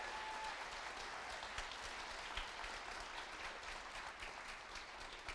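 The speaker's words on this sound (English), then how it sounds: "a big round of applause for yourselves as well for coming out" An audience at a live music showcase breaks into continuous applause, dense clapping and a few cheers sustained evenly throughout, heard from within the crowd.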